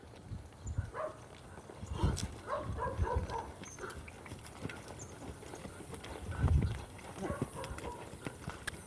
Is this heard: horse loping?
yes